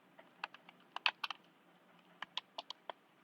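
Quick keystrokes on a computer keyboard in a quiet room, two short bursts of crisp clicks separated by a brief pause, close and clear with no voices.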